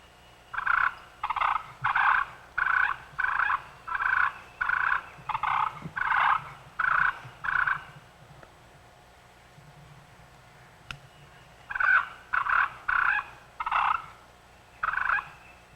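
A wild turkey gobbles repeatedly in spring woods, about a dozen rapid rattling gobbles in steady succession, a quiet gap, then a few more bursts, loud and clear with no talk.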